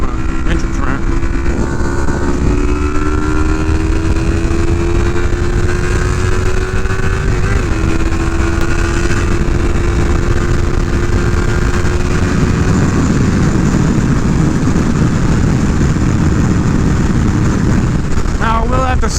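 Yamaha R3 motorcycle accelerating hard in fourth gear near 9,000 RPM up a highway entrance ramp, a steady high engine whine rising in pitch under heavy wind roar, continuous and loud throughout.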